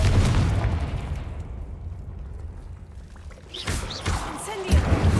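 Confringo blasting spell explosions in Hogwarts Legacy, a loud burst opening the clip and then decaying, with a second crackling blast near the end.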